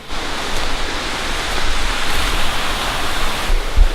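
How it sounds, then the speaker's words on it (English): A waterfall cascade in Olympic National Park roars as a steady, dense broadband wash, loud and constant throughout with no voices over it. "there's like this whole cascade coming down back in there"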